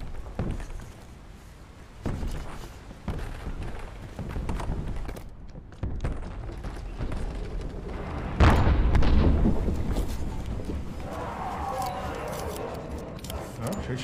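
Gunfire in the survival video game Don't Starve, a few sharp shot bursts scattered through ongoing game sounds, with players talking over much of it.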